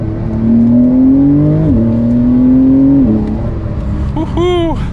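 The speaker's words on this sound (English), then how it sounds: "We need to do one more acceleration." Porsche 911 Carrera S (992) accelerating hard, its engine note climbing steadily through the revs, dipping briefly at quick gear shifts, then revving up again loud and close from inside the car.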